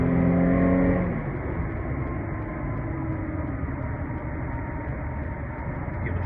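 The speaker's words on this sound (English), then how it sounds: "People driving like crazy." Fast-moving cars produce a loud, continuous road roar and engine drone, with a brief stronger engine hum at the start and no voices.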